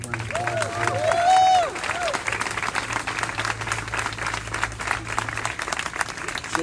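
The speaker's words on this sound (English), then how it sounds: "we'd like to give you a round of applause" District office staff receive a round of audience applause at a school district announcement event, steady clapping from a crowd lasting several seconds, with a brief cheer early on.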